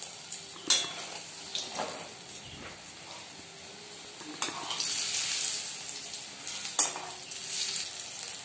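Cauliflower pakoras, the florets first steamed with salt and turmeric, fry in hot oil with a steady soft sizzle, broken by occasional scrapes and stirs of a utensil against the pan in a home kitchen.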